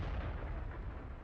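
A heavy E100 tank cannon fires in World of Tanks, giving a single deep, booming blast with a thick low rumble that fills the short moment.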